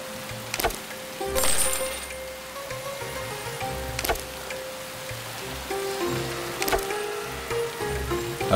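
Rain falls steadily in The Settlers video game, a soft continuous patter, with a low repeating musical bass line beneath and a few sharp splashy accents now and then.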